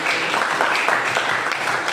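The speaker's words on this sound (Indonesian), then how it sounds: "Tepuk tangan dulu dong" A school class claps together after a prayer in a mathematics lesson, a dense, steady wash of many hands lasting the whole moment, close and fairly loud.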